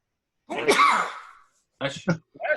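A single loud, close sneeze with a sharp burst and trailing exhale, followed by brief voices speaking.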